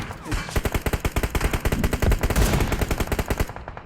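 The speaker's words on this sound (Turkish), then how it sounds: "Sağdaki adam sıkıyor var ya" Rapid automatic gunfire in PUBG Mobile, coming from the right: long sustained bursts of loud, closely spaced shots that run almost without a break, with a voice faintly underneath.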